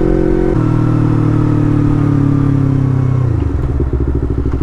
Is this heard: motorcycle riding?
yes